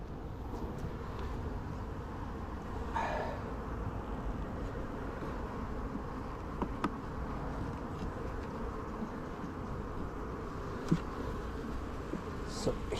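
Honeybees buzz in a dense, continuous hum around an open hive's second brood box, close and steady throughout with faint handling clicks and no talk.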